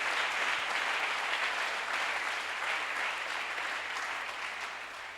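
A church congregation applauding during a sermon, a dense, steady wash of clapping from many hands filling the room, holding loud throughout and fading slightly at the end.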